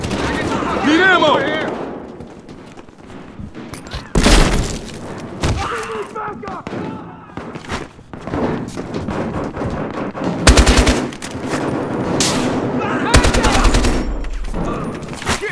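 Rapid bursts of RPK-74 machine gun fire in the video game Battlefield Hardline, loud and close, mixed with other gunfire and heavy impacts, with voices calling out during the shooting.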